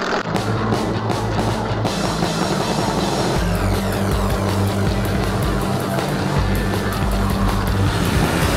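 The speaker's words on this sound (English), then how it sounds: "zoom past that car" A loud car engine roars steadily, with a rising whoosh as it zooms past partway through; no voices.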